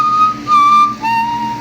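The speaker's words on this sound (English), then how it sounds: "the animation and sound of him whistling when he has his camera out" Cartoon character whistling in the indie video game Steve's World of Wanders while holding a camera: a clear, thin sliding whistle tune in a few sustained phrases with brief breaks, alone with no talk.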